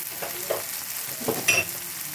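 Tomatoes and spice masala sizzle in a pan for handi chicken, a steady frying hiss at close range broken by a few stirring scrapes of a spoon.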